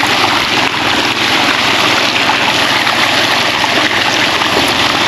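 An engine-driven water pump runs in a farm plot, irrigating eggplants: a loud, continuous motor drone mixed with gushing water noise, steady and unbroken throughout.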